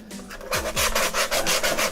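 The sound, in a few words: roughing up cello wood surface, sanding or filing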